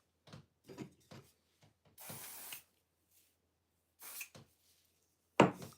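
Heat protectant hair spray hisses out in two separate bursts, each about half a second, between quieter handling clicks and rustles, ending with a sharp louder knock.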